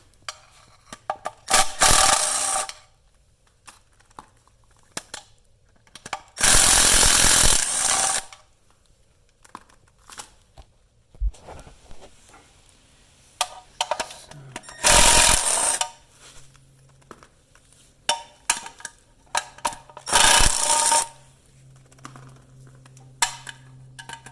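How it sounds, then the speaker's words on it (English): A power tool whirs in several loud bursts of a few seconds each while removing the 10 mm oil pan bolts from a 1995 Toyota T100 engine, with clanking and handling noises between the runs. "So I'm going to remove all the 10 millimeter at the bottom. this oil pan."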